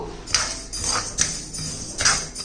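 Moong dal is dry-roasted in a pan, stirred with a spoon that scrapes and taps the metal in a few irregular strokes over a quiet kitchen background.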